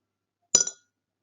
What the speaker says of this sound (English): Now put the coin inside the glass full of water.